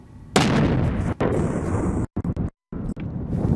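Seized explosives and mortars blown up by soldiers in a desert region, a loud deep blast followed by sustained rumbling roar with choppy dropouts.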